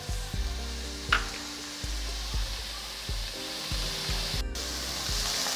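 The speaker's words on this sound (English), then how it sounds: "And we're just gonna saute that for about 2 to 3 minutes." Onion, mushrooms and carrots sautéing in a pan, a continuous bright sizzling hiss that stays even and fairly close, with a few faint clinks over a low hum.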